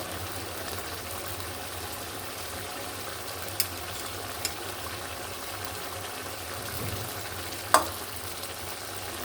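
Cut hilsa fish and cucumber sizzle steadily in an oiled pan, a constant close frying hiss broken by a few sharp clinks of a utensil against the pan.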